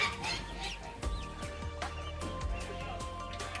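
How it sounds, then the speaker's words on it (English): Around a hundred chicks in a farm nursery make high cheeping calls, with a steady low hum of background noise underneath. No one is talking. "Our farm has now expanded and we now have chicks."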